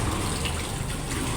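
River water flows in a steady, continuous rush, close by and filling the whole brief moment with broadband hiss and no voices.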